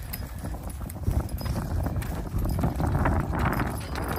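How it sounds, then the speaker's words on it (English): A pair of Percheron draft horses being hitched to a wagon, their hooves clip-clopping steadily and close by with loud, continuous footfalls. "These boys are a nice pair of horses."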